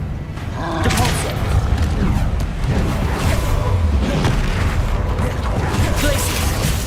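Depulso spell impact in the Hogwarts Legacy video game: a dense, rumbling burst of booming force with crackling debris, holding loud and steady for several seconds amid combat noise and faint voices.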